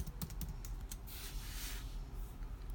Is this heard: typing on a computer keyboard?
yes